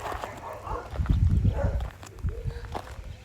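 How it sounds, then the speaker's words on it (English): Several dogs barking outdoors, among them a husky, with a cluster of barks near the middle and quieter yips toward the end, mixed with footsteps and faint background noise. "it's a hella dogs over here"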